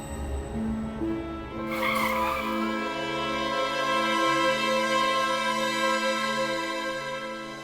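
Tires screech as a car skids hard to a stop, a sharp squeal bursting out and holding with a long tonal whine over a steady engine hum, loud and close.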